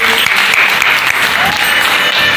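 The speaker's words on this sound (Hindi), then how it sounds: "एक बार जोरदार तालियां शर्मा परिवार के लिए" Loud, dense applause from a family gathering celebrating a Ganesh festival, honoring the Sharma family, a steady wash of many hands clapping close by with a voice briefly over it.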